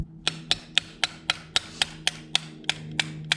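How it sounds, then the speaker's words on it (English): Evenly spaced metallic taps of a long screwdriver on a timing chain bushing inside a Ford 4.0L SOHC engine, about a dozen sharp close strikes in a steady rhythm over a low hum. "we need to take a long screwdriver and gently tap"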